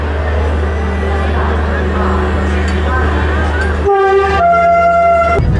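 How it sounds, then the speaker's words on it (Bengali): A Vande Bharat express train travelling at speed toward Ayodhya, a steady rumbling ride noise from inside the coach, then a loud sustained horn blast of several tones near the end. "এই মুহূর্তে ট্রেন 108 কিলোমিটার গতিবেগে এগিয়ে চলেছে অযোধ্যা ধামের দিকে।"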